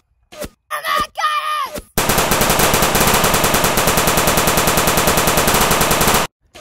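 Gunfire in a World War II short film: shouted commands in a foreign language give way to a long, loud burst of rapid machine-gun fire that runs unbroken for about four seconds before cutting off abruptly.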